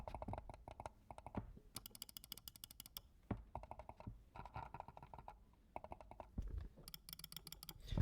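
A fake Logitech M330 silent wireless mouse clicks in quiet bursts, soft rapid ticks close up in clusters with short pauses between, faint and dry.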